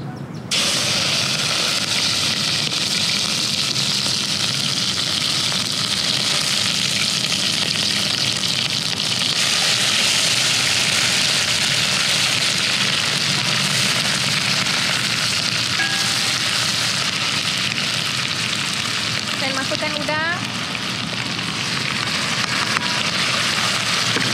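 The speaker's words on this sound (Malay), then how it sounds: "sekarang minyak pun dah panas. Saya nak masukkan bahan" Pounded ingredients going into very hot cooking oil for a shrimp and petai chili dish, a loud, steady sizzle and spitting hiss that holds up throughout, with faint clinks partway through.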